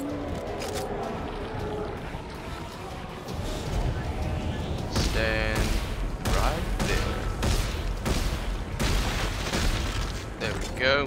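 Repeated gunshots aimed at a creature in Dead Space 3, heavy booming blasts mixed with mechanical clanks and squishy impacts, while someone talks briefly over the shooting.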